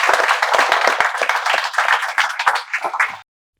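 An audience claps together in welcome at a spoken English institute session: dense, steady applause filling most of the moment before stopping abruptly.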